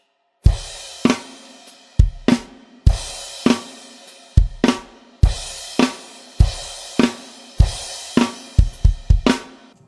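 A drum kit plays a rhythmic pattern of sharp hits with ringing cymbals, speeding into quicker beats near the end, close and loud; a drum part from a song.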